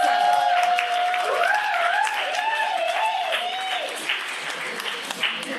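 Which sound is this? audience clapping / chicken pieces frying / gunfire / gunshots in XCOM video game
audience clapping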